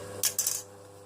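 A metal fork clinks twice in quick succession against a container of homemade slime while stirring, with a short ringing tail that fades to a quiet hum.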